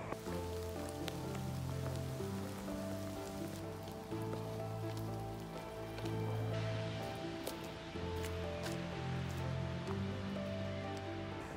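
Rain falls steadily outdoors with dense patter on surfaces, continuous and fairly close, mixed with faint tonal background sound and no speech.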